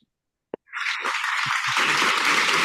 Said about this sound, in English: And the crowd goes wild for Mark.